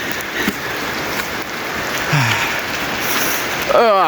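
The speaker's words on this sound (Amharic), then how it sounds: "በቃ ዝናብ እየዘነበ" Heavy rain on a university campus in Ethiopia, a continuous wash of rainfall with scattered thumps and movement, a voice speaking briefly over it.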